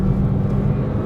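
A Renault Clio 220 Trophy engine revs as a dense, steady, loud drone inside the car without pauses, with no talking.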